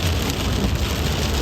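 Steady rain drums on a vehicle while it is being driven, a dense continuous hiss of drops filling the short stretch with no voices.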